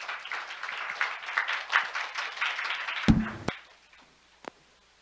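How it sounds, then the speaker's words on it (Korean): Audience applause at a conference session welcoming a vice president of a Busan port onto the stage: dense clapping from a hall crowd for about three seconds, then a few sharp taps and quiet. "여러분 큰 박수로 환영해 주시면 감사하겠습니다"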